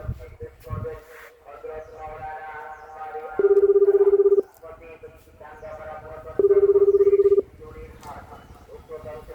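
Two ringback tones of an outgoing phone call, each about a second long and a few seconds apart, with muffled talk and background noise between them.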